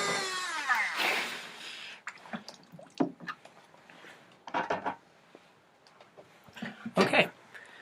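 Diamond Dremel rotary tool bit drilling into bogwood, with short intermittent grinding bursts and scrapes at close range, separated by quiet pauses and small handling noises.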